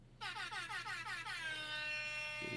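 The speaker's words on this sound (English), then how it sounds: "I've got my DJ air horn at the ready." A DJ air horn sound effect blares in a rapid series of pulsing blasts that run into one long sustained honk, loud and close.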